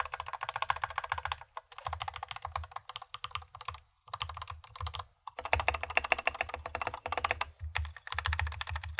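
Typing on an Akko 3061S 60 percent keyboard with lubed Gateron Yellow switches: close, rapid bursts of clacky keystrokes with short pauses between runs, including deeper thumps from the spacebar.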